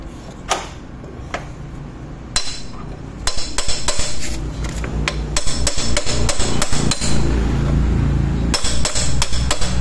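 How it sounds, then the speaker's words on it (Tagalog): Loud, close hammer blows ring out on metal, sparse at first then coming in quick, steady bursts over a noisy workshop background, while removing the oil pump cover of a Yamaha Mio Soul scooter. "Yan, pupukpukin natin yan, martilyo."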